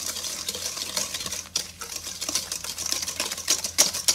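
Hand beater whisking sugar and eggs together for brownie batter, a fast continuous whirring and clattering in the bowl, close and moderately loud, with no speech.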